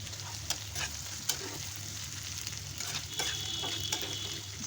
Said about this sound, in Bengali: চিংড়ি মাছের যে সুন্দর ঘিলুটা ছিল ওটা দিয়েছি, ভালো করে ভেজে নিচ্ছি